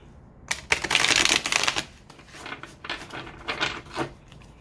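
Rapid riffling bursts of cards being shuffled, close and fairly loud, in several short rustling runs with brief pauses between them.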